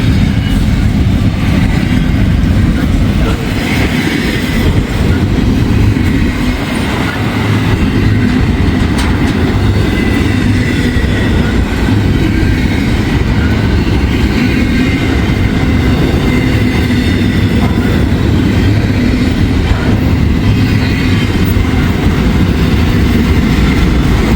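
A freight train with locomotives rolls steadily past on a railroad track nearby on an autumn afternoon, a loud continuous rumble with wheel clatter and rattling cars that never lets up.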